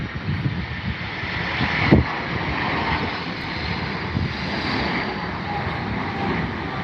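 A DHL cargo jet at Heathrow makes a steady, distant engine roar under wind noise, with a brief thump near the two-second mark.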